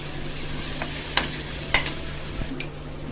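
Turmeric and ginger-garlic paste frying in a pan for a Telangana-style goat brain curry, stirred with a few sharp spoon scrapes over a steady low sizzle, no talking.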